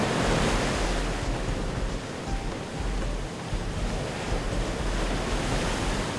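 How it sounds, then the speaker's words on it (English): Ocean waves break and churn in the surf zone at a beach, a loud, continuous roaring wash of water heard close up with wind buffeting the microphone and no voices. "The area where the waves break is known as the surf zone, and it's chaotic in here."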